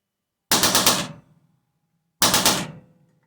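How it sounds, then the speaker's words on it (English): A Hatsan Blitz air rifle fires on fully automatic in two short, loud bursts of rapid shots, each lasting about half a second with a brief ringing decay and a pause between them. "So we're going to put this on fully automatic, on fire, full."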